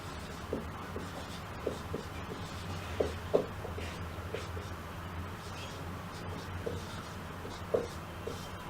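Chalk or marker scratching and tapping on a board during a lecture, faint intermittent strokes in a quiet room.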